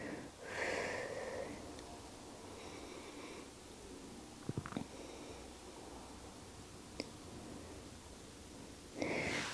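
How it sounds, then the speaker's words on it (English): A long, breathy exhale is heard during a yoga stretch, close and soft at the start. A few small clicks and rustles follow in a quiet room, then another breath near the end. "take a nice big exhale"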